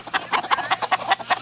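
Backyard chickens cluck in a quick, regular series of about eight short, loud calls over a second and a half, close to the microphone with no talk.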